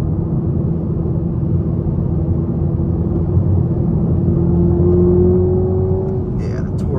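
A 2023 Toyota GR Supra 2.0T engine accelerating hard from inside the cabin, a steady rising drone that climbs in pitch over several seconds, heard close and continuous under the road noise.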